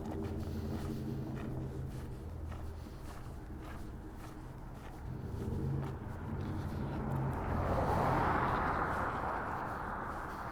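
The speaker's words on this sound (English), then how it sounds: "Sound of a modified, whatever kind of truck that was." A modified truck passes along San Juan Blvd in Farmington, New Mexico, its engine rumbling low and steady before swelling into a louder whooshing pass, heard from the sidewalk with no talk.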